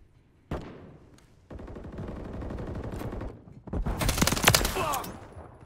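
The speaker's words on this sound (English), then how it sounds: "Troops in contact! You're taking fire!" Gunfire in Modern Warfare 3, sustained bursts of automatic weapon fire that start abruptly, continue steadily, then swell into a louder, denser barrage toward the end.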